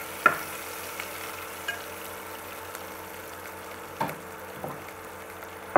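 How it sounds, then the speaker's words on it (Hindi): Onions fry in a pan for egg biryani, a faint, steady sizzle broken by a few soft clacks of stirring. "और अब हम लोग इसमें प्याज डाल देंगे थोड़ा सा और इसे थोड़ी देर के लिए भून लेंगे।"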